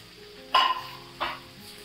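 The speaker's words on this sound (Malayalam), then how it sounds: "ക്യാരറ്റും ക്യാപ്സിക്കവും വഴറ്റി അത്രയും സമയം വേണ്ട" Carrot and capsicum sautéed on full flame in a pan for chicken fried rice, two short sizzling stirs close by, each a quick hiss with a scrape, no voices.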